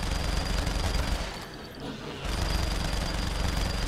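Dense rapid gunfire from the video game Saints Row: The Third, loud and continuous, broken by a short lull before the shooting resumes at full intensity, with no voices.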